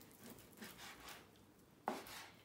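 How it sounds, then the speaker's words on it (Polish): A knife chopping beef into small pieces on a board, soft irregular cuts building to one sharper, louder knock near the end, fairly close and quiet with no talk. "Kroimy mięso."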